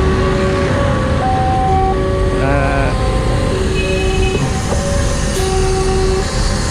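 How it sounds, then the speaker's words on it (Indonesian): A train rumbles steadily past a level crossing, loud and close, with crossing warning bell tones ringing over the continuous rolling noise and a brief horn-like tone. "Pas ada kereta."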